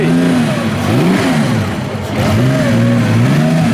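A 1933 MG historic racing car at the Monaco Historic Grand Prix revs hard and close, its engine note rising and falling in repeated sweeps with a brief dip midway and no talking.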